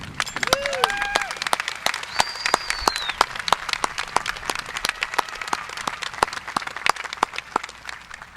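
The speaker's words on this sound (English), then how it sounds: "So please join me in giving them the biggest round of applause that we can." A crowd applauds at the 2025 Boerne High School graduation ceremony. Sharp, scattered claps run steadily through the whole stretch, with a few high whistles rising over them near the start.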